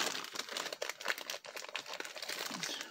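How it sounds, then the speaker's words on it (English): A plastic bag crinkles and rustles in quick, irregular bursts at close range as a fairy doll is pulled out of its packaging; the sound is fairly quiet. "Just get it out of this plastic bag."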